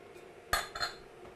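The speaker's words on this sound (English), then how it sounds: "Just going to continue to mix." Gluten-free, beef-free corn dog batter being mixed in a bowl, heard as a couple of brief, fairly quiet utensil clinks and scrapes against the bowl over a low background hum.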